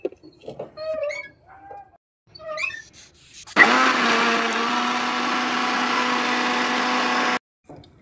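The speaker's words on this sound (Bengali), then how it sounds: "ব্লেন্ডার করা হয়ে গেছে।" An electric blender whirs loudly and steadily for about four seconds, grinding chopped taro stalks without added water, preceded by chickens clucking in the background and stopping abruptly.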